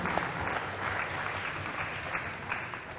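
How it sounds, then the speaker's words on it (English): An audience at an English school debate gives the students a round of applause, steady massed clapping with no talking over it. "I think if you could join me to give a big round of applause for the students."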